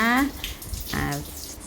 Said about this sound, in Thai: สาเหตุก็มาจาก ไอสายข้างในค่ะทำให้น้ำไหลไม่หยุดนะคะ